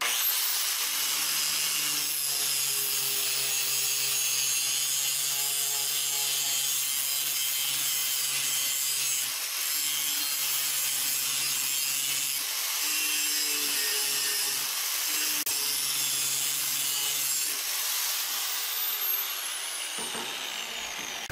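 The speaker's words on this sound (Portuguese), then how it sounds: "Eu vou passar o disco de desbaste" Angle grinder fitted with a grinding disc shaping a steel wood-turning chisel: a steady, loud, hissing grind with a humming motor tone that runs continuously for about twenty seconds, with no talk.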